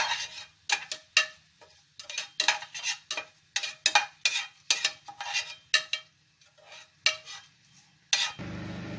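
A spoon stirs whole spices in ghee for chickpea pulao, scraping the pan in a dozen or so quick, even strokes. A louder sizzle rises right at the end.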